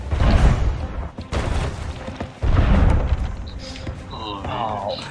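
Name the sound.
cannon fire in a video game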